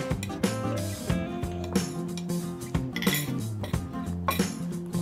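Shrimp paste is pounded in a mortar for Thai nam prik kapi, producing steady repeated thuds with ringing clinks, struck close and roughly every half second.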